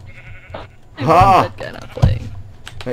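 A sheep bleats loudly in the Minecraft game, a single wavering call up close, with a player talking excitedly around it.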